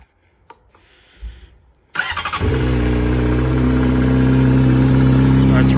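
A 2008 Honda CBR600RR motorcycle with a new battery starts up: a quiet fuel-pump whine and brief cranking, then the engine catches and settles into a loud, steady idle close by.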